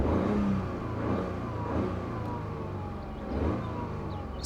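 A Toyota GR Yaris with a three-cylinder engine revs in repeated rising and falling swells, loud and near, with a wailing tone sweeping over the engine note; no talking.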